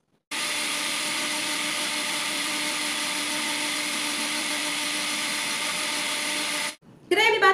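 A blender runs loud and steady for about six seconds, whirring garlic and oil into mayonnaise, then stops abruptly with a brief clatter afterward.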